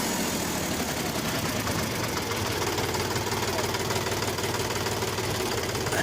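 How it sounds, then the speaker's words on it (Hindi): A toy tractor stuck in a field runs its engine with a steady, loud, rattling drone that holds unchanged for about six seconds. "अरे मेरा ट्रैक्टर बहुत बुरी तरह से फंस गया है।"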